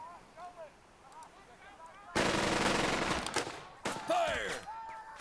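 In the Burden of Command video game, a squad opens fire in a sudden, loud wall of machine-gun and rifle fire after quiet moments with faint voices. A second burst follows shortly after.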